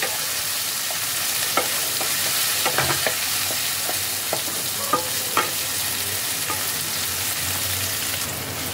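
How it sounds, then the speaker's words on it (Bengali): Chopped tomato stirred in a frying pan for dhaba-style paneer bhurji, a steady sizzle running throughout with a series of sharp spatula scrapes and clacks against the pan, close and fairly loud, with no voices. "এবার টমেটোটাকেও ভালো করে খানিকক্ষণ নাড়াচাড়া করে নিতে হবে।"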